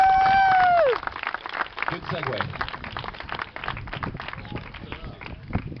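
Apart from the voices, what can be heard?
audience applause for Roland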